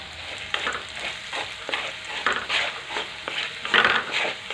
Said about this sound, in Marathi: खोबऱ्याचं वाटण परततंय तोपर्यंतच आपल्याला घालायचं आहे कढीपत्ता।